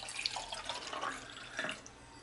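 Water pours into a small Turkish coffee pot, an ibrik, with faint trickling and light splashing drips over a couple of seconds.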